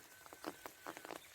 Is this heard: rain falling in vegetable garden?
yes